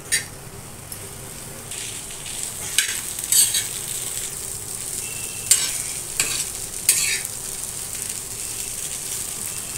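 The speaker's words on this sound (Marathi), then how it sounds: "आता आपण एक चमचा शेजवान चटणी घालून घेऊ आणि आता आपण त्याला परत मिक्स करून घेऊया" Schezwan-sauced vegetables are stirred in a frying pan, a spoon scraping and clinking against the metal in uneven strokes over a soft, steady sizzle, close by with no talking.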